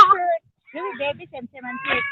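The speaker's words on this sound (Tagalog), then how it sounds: "Ba't parang pusa yung boses ng alaga mo?" A cat meowing close by in a few short, plaintive calls with gaps between, outdoors near a house.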